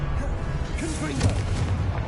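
Confringo blasting spell in Hogwarts Legacy on PS5, booming explosive impacts with a rumbling low end amid game combat, moderately loud, with a voice talking over the blasts.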